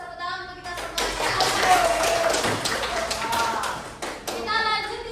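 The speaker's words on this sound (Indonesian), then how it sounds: "Tepuk tangan untuk kita semuanya." A class of children claps in a quick rhythmic pattern in an Indonesian classroom, with voices of the teacher and kids talking over and around the fairly close applause.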